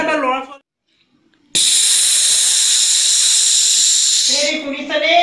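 A kitchen pressure cooker whistle releases one long, loud, steady high-pitched hiss lasting about three seconds, with brief speech before and after it.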